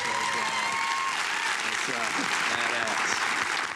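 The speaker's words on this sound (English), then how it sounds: "they all deserve another round of applause" Audience applause for contestants on stage, a sustained dense clatter of clapping with a voice faintly audible underneath.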